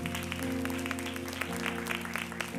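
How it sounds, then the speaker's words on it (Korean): A church congregation at a Sunday service claps in thanks to the pastor after his sermon, a soft, brief patter of applause over sustained organ or keyboard chords. "우리 귀한 말씀 전해주신 목사님께 한번 우리 감사의 박수를 나누겠습니다"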